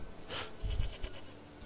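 Goat in The Witcher 3 bleating, a short nasal bleat up close with soft breathy ambience around it.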